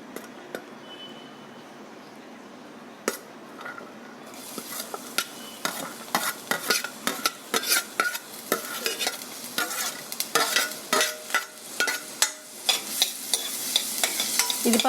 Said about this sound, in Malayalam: എണ്ണ ചൂടായാൽ ഈ അരിഞ്ഞു വെച്ചിരിക്കുന്ന സവാള ഇട്ട് കൊടുക്കാം